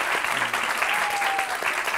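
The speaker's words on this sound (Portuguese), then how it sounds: "me parece um forte aplauso" A live stand-up comedy audience in Portugal claps steadily in a dense, continuous wash of applause that fills the room.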